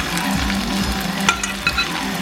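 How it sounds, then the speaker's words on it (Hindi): Chicken sizzling and frying in masala in a pan for a Punjabi Patiala chicken dish, a steady close crackle with a few scraping stirs, no talking. "हम इसमें चंगी तरह भुनांगे।"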